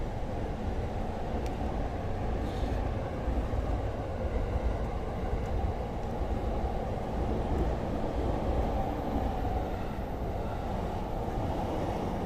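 Steady, continuous rumble of a train rolling along tracks beside apartments in Meguro, Tokyo, a dense low roar holding constant throughout with no voices.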